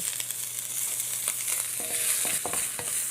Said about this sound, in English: Very quick sear around the wok